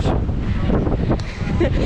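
Wind buffets a microphone outdoors in Old Tbilisi, a loud, low rumbling roar that runs without a break with faint voices under it.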